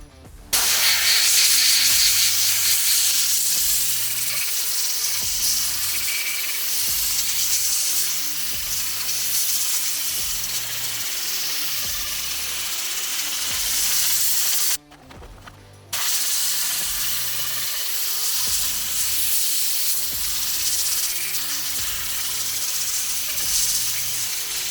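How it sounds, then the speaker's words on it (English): Sandblasting rifle parts from a CETME C outdoors: a loud, steady, close hiss of blasting media runs almost continuously, broken once by a brief pause before resuming, with no talking. "let's do some sandblasting"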